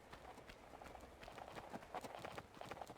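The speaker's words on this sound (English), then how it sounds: "The horseman out there definitely is. I can hear him clip-clopping around." A horseman's mount clip-clops around in Tomb Raider (1996), a steady run of soft hoof beats heard at a moderate distance over faint game ambience.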